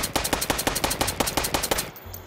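A rifle fires rapidly in the VR shooting game H3VR, about a dozen evenly spaced sharp shots in quick succession, close and loud, ending abruptly.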